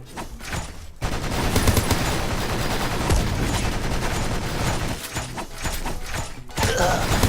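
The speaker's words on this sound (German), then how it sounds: "beschossen von hinten" Sustained automatic gunfire in the shooter game Horizon Source, rapid bursts coming from behind, loud and dense, broken by brief pauses near the start and end.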